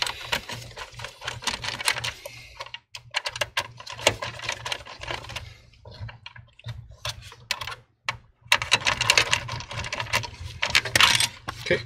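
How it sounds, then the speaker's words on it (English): Phillips screwdriver working out the screws on a CPU heatsink of an iBuyPower water-cooled PC, a close run of small rapid clicks and ratcheting taps with a short pause midway before the busy clicking resumes. "I'll be using a Phillips screwdriver."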